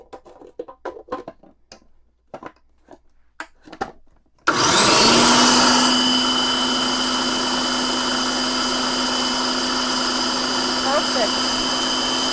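A kitchen blender kicks on abruptly after a few seconds of quiet voices and handling noises, then whirs loud and steady, chopping cucumbers into a chunky relish blend.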